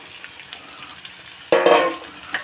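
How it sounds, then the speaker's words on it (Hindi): Carrots drop into pickle spices frying in hot oil, producing a steady low sizzle that suddenly surges into loud, bright crackling and spitting halfway through, then eases off with a faint clink at the end. "अब मैं ऊपर से गाजर को ऐड करती हूँ"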